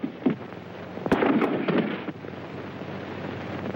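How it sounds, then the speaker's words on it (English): A gunshot in an old western drama: a sharp crack rings out against a windy outdoor background, with another quick pop soon after, both fairly faint in the mix. "Cannonball's been shot."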